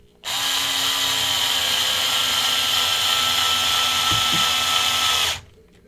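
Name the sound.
power driver driving screws into an RC race car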